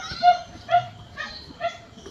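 A white pet dog whimpers and yips in short, high, whiny bursts, four separate cries spaced about half a second apart, close by, with faint voices in the background.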